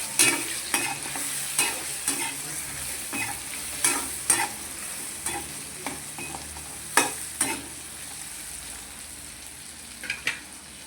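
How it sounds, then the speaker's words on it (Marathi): Eggplant curry with home-ground spices and coriander powder stirred in a frying pan, with a steady sizzle beneath repeated scraping strokes of the spoon at an irregular rhythm, close and clear. "वांग असं चांगलं हलवून घेतलं"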